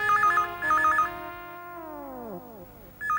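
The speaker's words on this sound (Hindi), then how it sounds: "अरे कोई फोन उठाओ ना, अरे कोई सुनता ही नहीं है।" Telephone ringing indoors in a domestic scene, repeated warbling electronic trills in short bursts, loud and near. A long gliding tone separates the bursts, and no one speaks.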